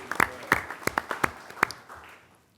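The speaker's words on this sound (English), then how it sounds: "let us give you a round of applause." Brief round of applause from a county board meeting audience, a few loud hand claps in an uneven patter that quickly fades away.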